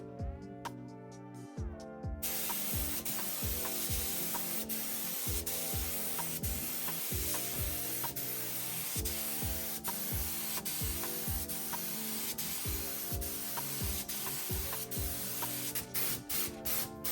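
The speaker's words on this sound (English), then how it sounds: "The worst thing is spraying the top of a dash when the windshield is still on." Continuous hissing spray from a spray gun painting the dashboard of a 1965 Ford F100 truck, steady and close, with rhythmic music playing underneath throughout.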